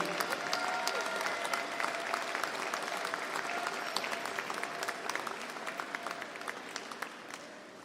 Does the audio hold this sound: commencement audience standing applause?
yes